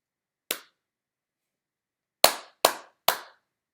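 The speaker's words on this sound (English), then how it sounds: "I'm just going to clap and then you're going to try to write it." A teacher clapping a rhythm for a third-grade music lesson: one crisp clap, a long pause, then three quick sharp claps, close and clean against silence.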